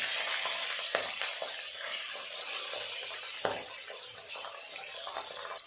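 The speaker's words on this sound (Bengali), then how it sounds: "তেল গরম হয়ে গেছে, এক এক করে মাছ দিয়ে দেব।" Pabda fish sizzle steadily in hot oil in a home kitchen pan, a soft continuous crackle with a couple of sharp clicks of a utensil and no talk.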